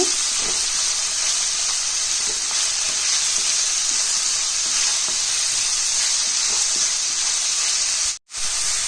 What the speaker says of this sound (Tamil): இப்போது வெங்காயம் பூண்டு எல்லாம் போட்டாச்சு இதை வந்து இப்போ நல்லா சிம்லேயே வச்சு நல்லா கலர் விடுங்க